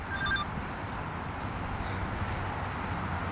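A phone rings outdoors with a short burst of bright electronic ringing tones at the start, then fades into steady loud background noise.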